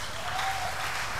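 Church congregation at a Sunday service applauding and cheering, a steady dense wash of clapping from a crowd filling the whole brief moment.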